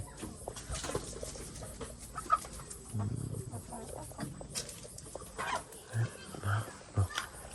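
Chickens cluck and murmur around a farmyard, with occasional louder bird calls and a person talking faintly in the background.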